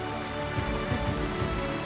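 Steady, dense rain pours down in a jungle near North Salimpur, a continuous close hiss of drops striking leaves and ground with no break.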